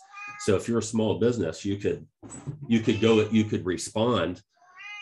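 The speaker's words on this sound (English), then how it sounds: "sorry about the cat." A cat meows indoors, high and brief, at the start and end of the span, while a person talks steadily through the middle.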